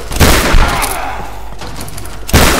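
Shotgun gunfire in the video game Tomb Raider 2013: loud, close blasts at the start and again near the end, with a rumbling decay between them.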